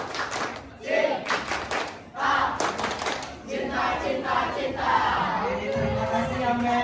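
Group rhythmic clapping cheer, tepuk cinta, at a church youth gathering, with bursts of patterned hand claps and shouted crowd voices, loud and close, settling into chatter and voices toward the end.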